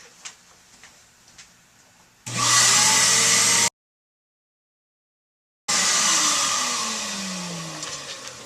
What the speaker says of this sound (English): I have a little vacuum over there, so I'm going to go ahead and vacuum this quick